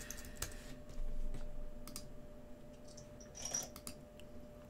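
Soft keystrokes on a computer keyboard while typing a search query, a few faint scattered clicks in a quiet room over a low steady hum.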